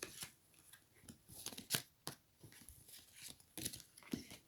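Tarot cards are drawn and handled in a quiet reading, soft close papery snaps and shuffles coming in short irregular bursts.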